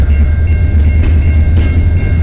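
CN freight train 435, led by units 5650 and 2651, switches in the London East Yard on the Dundas Sub in London, Ontario, giving a loud, close, continuous low rumble with faint squeals above it.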